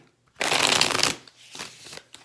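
Tarot card deck riffled and shuffled at close range, one dense burst of flapping cards for under a second followed by softer shuffling rustles and a final light tap.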